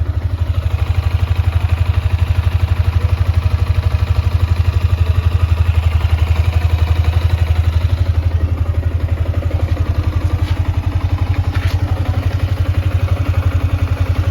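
A Yamaha Sniper 155 motorcycle engine, cyan blue, idles steadily nearby with a fast even putter and light mechanical ticking, running alone without voices.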